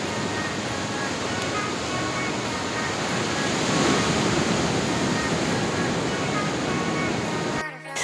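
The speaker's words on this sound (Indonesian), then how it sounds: "gulungan ombaknya udah gede sampai muncrat gitu ya ke batunya" Steady roar of surf breaking on rocks at Pangasan Beach, Pacitan, Indonesia, a dense continuous wash of water that swells slightly midway, then cuts off abruptly at the end.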